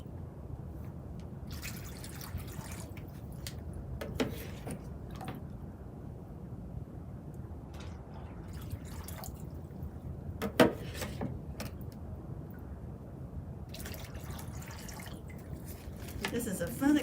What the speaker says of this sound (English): Now I'm going to put a lot of water in here and really try and get this bag close to full